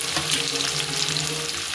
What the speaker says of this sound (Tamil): நம்ம வந்து அரிஞ்சு வச்சுக்கிற வெங்காயத்தை போட்டுக்கணும்.